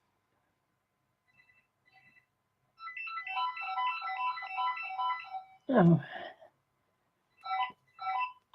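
A phone ringtone plays a repeating electronic melody for several seconds, then stops. Someone briefly exclaims, and two short ringtone chirps follow later in a quiet room.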